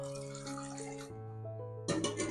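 Water poured into a cooking pot holding dal, ginger, garlic, turmeric and salt; a close, continuous pour with ringing, shifting tones that swells briefly near the end.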